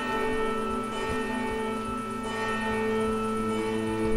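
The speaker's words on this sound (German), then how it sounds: "aber es ist diese riesige Glocke" Huge bell tolling in the Medusa's Labyrinth video game, a sustained ringing drone rich in steady overtones that hangs continuously at moderate loudness, with faint repeated low thumps beneath.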